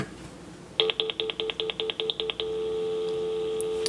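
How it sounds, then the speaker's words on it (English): Telephone line tones over a phone's speakerphone on a line spliced to bypass an AT&T phone jack: a quick run of about eleven evenly spaced dialing beeps, then a steady continuous dial-type tone, clear and fairly close. "I'm gonna push the speakerphone button on my phone and we'll see what happens."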